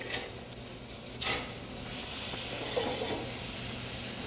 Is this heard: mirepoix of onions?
yes